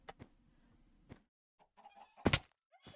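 A chicken in the Hytale video game clucks in a few short, close, separate bursts, with soft game thuds and quiet gaps between them.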